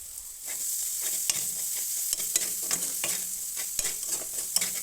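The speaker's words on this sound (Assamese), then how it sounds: "এইখিনি দিছোঁ পিঁয়াজ, নহৰু, গৰম মছলা পেষ্ট। এইখিনি ভালকৈ ভাজি ল'ম।" Onion, garlic and garam masala paste fry in a pan, a steady close sizzle broken by repeated sharp scrapes and clicks of a spoon stirring, with no talking.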